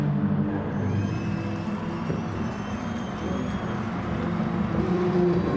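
Race cars in a racing video game replay at Lago Maggiore run through corners close together, engines droning and shifting pitch as they brake and accelerate, steady and moderately loud.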